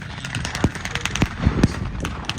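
Vickers machine gun firing at a World War One reenactment in Rockford, Illinois: a loud outdoor bout of sharp, irregular gunshot reports, several distinct bangs spaced over a couple of seconds amid background noise.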